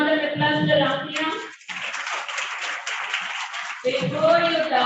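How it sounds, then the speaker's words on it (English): At a training session for school students, a group claps for Ramya in a short burst of about two seconds, with talking just before and after the clapping. "Put round of applause to Ramya"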